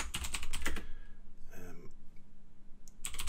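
Rapid clicking on a computer keyboard while someone writes code for a QGIS plugin, with bursts of close keystrokes at the start and end and softer, sparser taps and quiet background in between.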